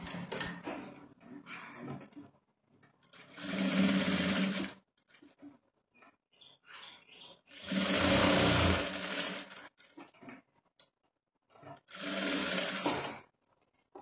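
A sewing machine puts small stitches into a blouse band, whirring in three loud bursts of a second or two each, with quieter handling noises and brief pauses in between.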